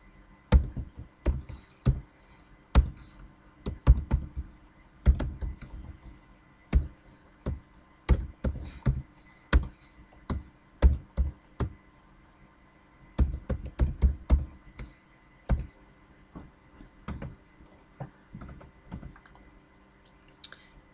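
Typing on a computer keyboard while entering names into a spreadsheet, close, irregular clacking keystrokes in bursts with short pauses over about twenty seconds.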